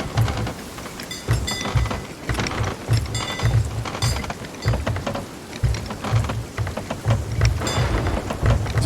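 Thunderstorm in the pirate game Sea of Thieves: heavy rain pours continuously while repeated thunder cracks and low rumbles pulse through it, loud and close, with no voices.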